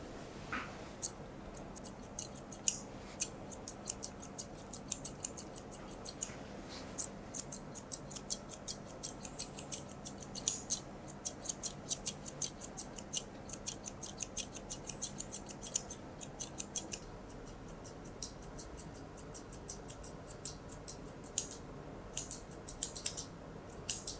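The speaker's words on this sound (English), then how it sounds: "So trimming the outside of his back legs and then the inside of his back legs." Grooming scissors snip steadily through a poodle's coat on its back legs, a fast run of crisp, close metallic cuts repeating for the whole stretch with only short pauses and no voices.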